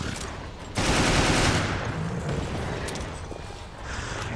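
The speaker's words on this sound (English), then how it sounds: "I throw some shock grenades, and then I go ahead and shoot his head" Rapid, loud gunfire bursts hammer away at an enemy in Resident Evil Revelations, a dense automatic volley that starts abruptly and rattles on continuously, close and with no talking over it.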